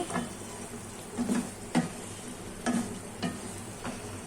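Vegetables for khichuri sautéing in a pan, a low steady sizzle broken by several soft scraping stirs of a spoon at irregular intervals, close and fairly quiet.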